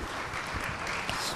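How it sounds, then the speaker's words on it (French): Audience at a French conference session on future skills and transformations applauding, a steady wash of many hands clapping together throughout, fairly close and even in loudness. "On va vous applaudir et vous remercier."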